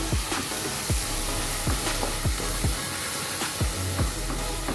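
Ground fennel and biryani masala powder sauté in a hot pan for a prawn rice dish, a steady sizzle broken by regular scraping stirs roughly every half second, close and even in volume.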